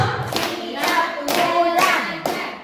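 Students in a class clap out a patterned rhythm in short grouped bursts, roughly five crisp clap clusters spaced evenly, near and lively, with chanting voices woven between them.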